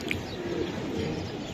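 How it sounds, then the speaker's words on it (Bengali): Silver pigeons coo softly and close by in a low, throaty murmur, with a brief chirp near the start and a steady background hum. "সিলভার কবুতর।"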